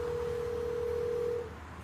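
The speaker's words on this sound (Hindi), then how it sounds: "राकेश को जवाब दिए बिना ही मनु ने फोन काट दिया और अशोक वाघमरे को कॉल मिलाया।" A phone call is placed: a single steady electronic tone holds for about a second and a half and then cuts off, clear and alone with no speech.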